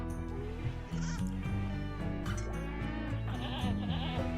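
Sheep bleats from the RimWorld video game sound over a busy bed of game music and effects, several short wavering calls scattered through a few seconds of dense background audio.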